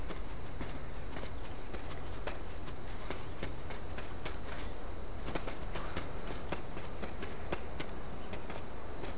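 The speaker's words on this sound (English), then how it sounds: "I heard footsteps." Footsteps in the H1Z1 zombie survival game, a continuous run of rapid, sharp clicking steps at close range, steady and busy throughout with no talking.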